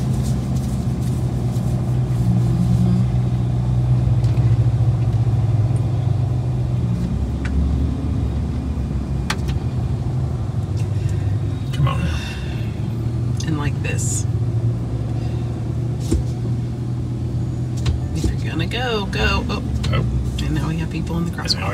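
A car in busy town traffic in Canton, Texas, heard from inside another vehicle: a steady engine rumble and road noise runs throughout, and someone talks over it at intervals.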